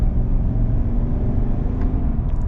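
A 2022 Chevy Silverado High Country pickup with the 5.3-liter V8 and 10-speed automatic accelerates, a steady low engine rumble and road noise heard from inside the cab, loud and continuous.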